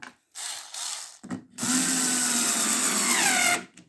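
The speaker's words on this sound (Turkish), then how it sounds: "bu şekilde tek tek vidalıyorum." A power drill screwing bases onto furniture legs, short whirring bursts at first, then a longer continuous drive whose pitch climbs before stopping, close and loud with no speech.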